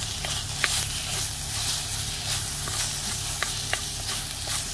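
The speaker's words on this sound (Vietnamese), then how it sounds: "Xào cho nó thịt ba rọi nó săn lại" Pork belly stir-fried in a blackened clay pot gives a steady close sizzle and hiss, with a few light scraping stir strokes over the continuous frying and no voices.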